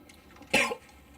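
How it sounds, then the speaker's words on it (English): A single short cough from someone who swallowed water whole like a pill, close and fairly quiet, with no talk around it. "That's why I coughed."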